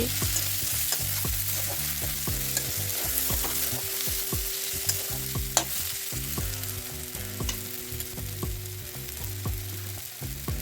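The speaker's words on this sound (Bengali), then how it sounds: "এখন এই মশলাটাকে নেড়ে নেড়ে ভালো করে কষিয়ে নিতে হবে" Spice masala with Kashmiri chili powder and turmeric frying in a pan for ghugni, a steady close sizzle with repeated scraping stirs and utensil knocks throughout, no voices.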